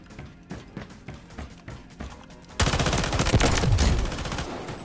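Rapid bursts of automatic gunfire in the military shooter Delta Force: Hawk Ops, scattered single shots at first, then a dense, loud sustained volley, with no talk over it.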